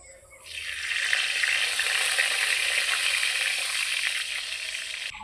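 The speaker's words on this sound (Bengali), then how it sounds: "এখন ফোড়ন করে নেব, দুটো তেজপাতা, একটা শুকনো লঙ্কা।" Bay leaves and a dried chili hit hot mustard oil in a pan, setting off a sudden loud steady sizzle that holds for several seconds, close and continuous without any voices.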